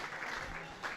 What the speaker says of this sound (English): Everyone was cheering because you swore.